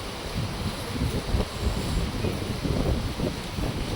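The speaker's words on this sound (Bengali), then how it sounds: "অনেক বাতাস।" Strong wind at the seashore roars steadily and buffets the microphone in a dense, continuous rush with slight swells, and no one speaks.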